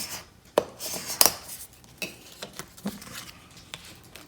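Transfer tape is rubbed and burnished onto a resin Halloween coffin, giving close, scattered scraping and tapping strokes of uneven loudness with a few sharper clicks.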